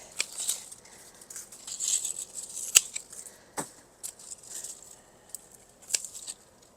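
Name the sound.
cutting back hellebore stems with garden shears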